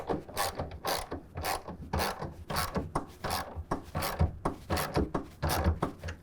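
A hand ratchet tightening a clamp on a soft folding tonneau cover, its pawl clicking in rapid repeated bursts with short pauses between strokes, close and fairly quiet.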